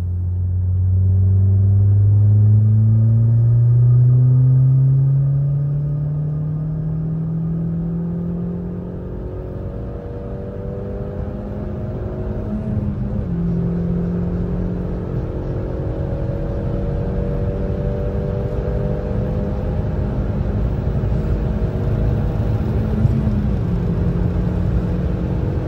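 A Seat Leon 1.8T 4x4 with 260 hp accelerates at full throttle, its engine droning loudly and climbing in pitch through a gear, dropping briefly at the shift, then climbing again under a steady rumble of road and wind noise inside the cabin.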